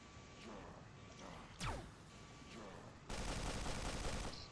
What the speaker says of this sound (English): I guess I'll just shoot him down.